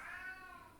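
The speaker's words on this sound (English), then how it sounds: "you can hear my cat meowing in the background." A cat gives a single faint, short meow in the background, quiet and brief against a low room hum.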